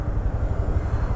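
A Honda Super Cub motorcycle engine idles in first gear with its centrifugal clutch, giving a steady, loud, close low rumble with no talking over it.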